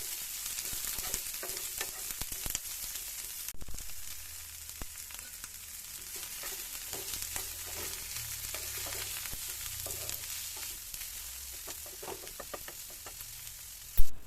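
Onions frying and being stirred in a pan on medium flame while making a Kerala-style egg curry, a steady close sizzle with scraping stir strokes throughout and a sharp knock near the end.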